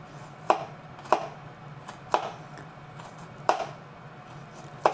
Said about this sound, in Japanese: スライスとも言えない下手くそな刻み方ですけど